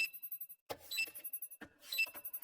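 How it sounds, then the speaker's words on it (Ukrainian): Library computer at a checkout desk beeping in a rapid repeated pattern of short electronic tones, with two brief rustling bumps breaking it up, close and fairly quiet. "А чому комп'ютер пищить?"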